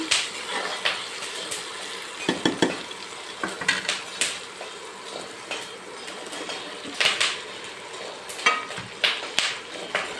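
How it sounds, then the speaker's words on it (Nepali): Beans and potatoes fry in a pan with mushrooms going in, a steady sizzle broken by repeated scraping and clinking of a utensil against the pan, busy and close with no voices. "बोडी र आलु यतिको फ्राई भएपछि अब हामीले यसमा मसरुम राख्न सक्छौं।"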